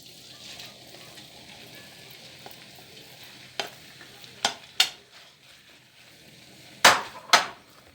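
Meat sautéing for sac kavurma on a sac pan, a soft steady sizzle broken by a few sharp metallic scrapes and knocks of a spatula, close and without speech.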